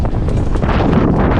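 Strong wind buffets the microphone aboard a small sailing yacht, a loud, rough, continuous roar that stays close and unbroken throughout.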